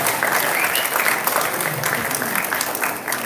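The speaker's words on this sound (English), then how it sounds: "And I think we need a big round of applause for this guy right here." A live-event crowd in Fredericksburg, Virginia applauds a trivia contest winner, a dense, loud and continuous wash of clapping throughout.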